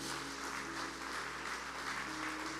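Church congregation giving an offering of applause to the Lord during a sermon, a steady dense wash of clapping that holds evenly throughout without any speech over it.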